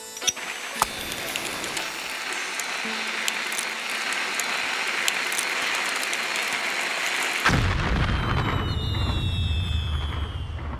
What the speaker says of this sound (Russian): Заложили бомбы, петарды,